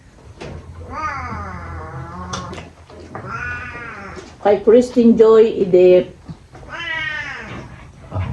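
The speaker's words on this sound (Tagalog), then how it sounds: "Ang pusa namin maingay." A cat meows repeatedly in drawn-out, wavering cries, close and fairly loud, mixed in with a person talking.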